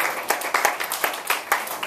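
A classroom bursts into applause for a student's chemistry poster presentation, with scattered, uneven claps rising and falling over about two seconds at moderate volume and no talking.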